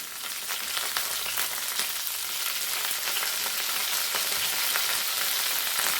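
Curry leaves drop into hot oil in a pan while cooking a potato fry, producing a loud, steady, crackling sizzle up close that goes on without pause and with no talking.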